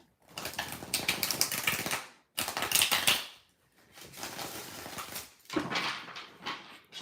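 Tarot cards being shuffled by hand, three bursts of dense riffling and slapping separated by short pauses, close and fairly loud with no voices.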